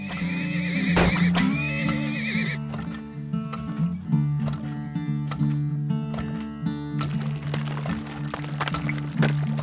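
Horses in the oil-drilling tycoon video game Turmoil neigh and whinny repeatedly and loudly over steady game music and clicking interface sounds.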